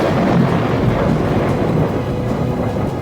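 Steady heavy rain with a continuous low rumble of thunder on a stormy night, loud and dense throughout with no voices.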